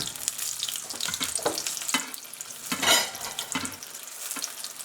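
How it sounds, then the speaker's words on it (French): Hot oil sizzling and spattering in a frying pan as food is basted, with irregular crackling bursts and scraping close by, no talk. "Je viens arroser les petits côtés là qui n'ont pas pu griller. Donc je viens les arroser avec l'huile."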